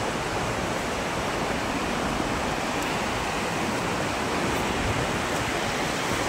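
Steady, loud roar of surf at Cox's Bazar beach filling the air without a break, a dense wash of crashing waves close by.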